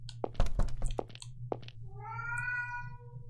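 A cat in the video game The Crooked Man gives one drawn-out, rising and falling meow after several short clicks and thuds, set over a steady low hum.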